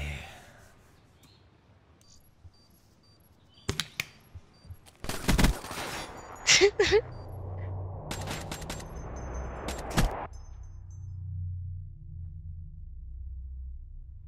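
Scattered bursts of gunfire from the Black Ops video game, several sharp cracks and a short rapid volley in the middle, over a low background hum.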